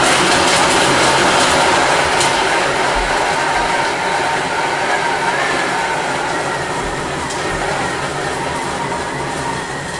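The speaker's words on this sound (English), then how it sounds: "all we do is put the lid on and blitz it up" A blender blitzes dairy-free chocolate ice cream in a loud, steady whirring roar that runs for ten seconds with no one speaking, easing slightly toward the end.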